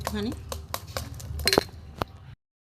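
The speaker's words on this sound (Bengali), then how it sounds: "বেসন দিয়েছি, ভালো করে ফেটিয়ে নেবো" Gram flour batter whisked in a bowl, giving quick rhythmic clinks and scrapes of utensil against the bowl, close and moderately loud, with a voice speaking.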